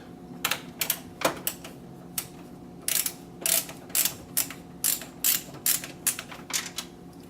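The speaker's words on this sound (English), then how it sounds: "Now I need to take a screwdriver and unscrew the bracket." Screwdriver backing out the screws on a graphics card bracket in a PC case, giving a string of short, close ratcheting clicks and creaks that speed into a steady rhythm toward the end.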